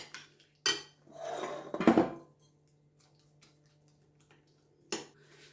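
Ingredients for a quick breakfast recipe get mixed in a bowl. A few scattered clinks and scrapes of a utensil against the dish come in short bursts, separated by quiet pauses, close but fairly soft.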